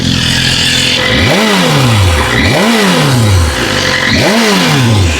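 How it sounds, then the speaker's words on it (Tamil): A motorcycle exhaust with its Valvetronic valve switched off revs three times in quick succession, each loud throttle blip rising and then falling away, with a steady engine rumble underneath. "வால்வ்ட்ரானிக் வந்து ஆஃப்ல எக்ஸாஸ்ட் சவுண்ட் எப்படி இருக்குது"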